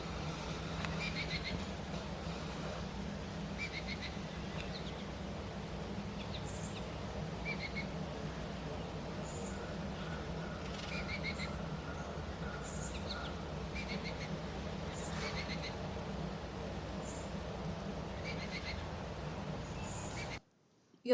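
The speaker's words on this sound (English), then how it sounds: "Here's a baby Baltimore oriole fledgling begging for some food from these adult males." A Baltimore oriole fledgling begging for food from adult males at a feeder, giving repeated thin, high chattering calls in irregular bursts over a steady outdoor background hum for about twenty seconds.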